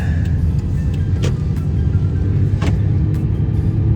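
Steady low engine rumble and road noise from inside a moving Toyota Chaser JZX100, constant and fairly loud, with no talking.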